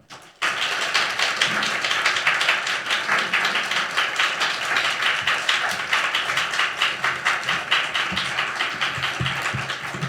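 A church congregation gathered for a Wednesday prayer meeting claps to welcome a visiting pastor. The applause is dense and steady, starting abruptly after a brief silence and continuing unbroken for about ten seconds.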